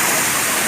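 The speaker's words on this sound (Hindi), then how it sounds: "पीछे देखिए झरना बह रहा है" A waterfall pours beside the steep Kedarnath trek trail, a dense, loud, continuous hiss of rushing water filling the short moment.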